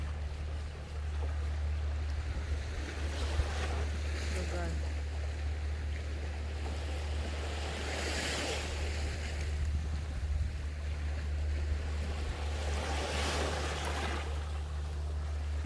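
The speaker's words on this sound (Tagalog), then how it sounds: "Nindot paminawon ang hapak sa bawod oh." Ocean waves washing in on a beach in slow, broad surges beneath steady wind rumble, with people talking over the surf.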